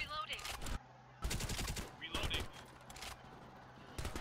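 M4 and MP guns fire in Farlight 84 in rapid automatic bursts separated by short pauses, with the game's other sounds underneath.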